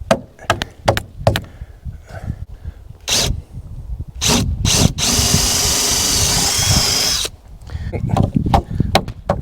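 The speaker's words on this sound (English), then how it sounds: "Take our lag bolt, just like that, put it through." A power drill drives a lag bolt into wood during a small cabin build, whirring steadily for about two seconds after a series of sharp knocks and taps from handling the timber.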